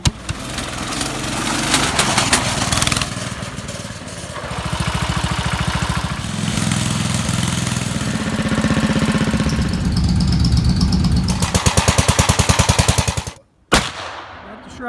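A 1988 MTD lawn mower engine runs and warms up, a loud, close, rapid putter that holds steady for a long stretch, then cuts out abruptly near the end before a short burst of noise.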